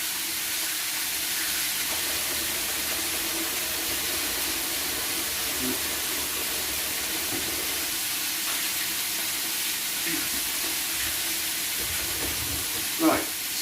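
Pork stir-frying in a pan for a stir fry, a steady soft hiss of sizzling running throughout at moderate level, with a brief louder clink near the end.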